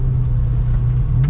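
A modified Honda S2000 engine runs with a loud, steady low rumble and hum from close by, holding constant without voices.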